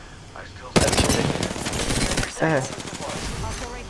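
Rapid automatic gunfire in a first-person shooter, apparently a Kraber sniper match, crackling loudly in dense bursts, with excited Portuguese voices shouting over and between the shots.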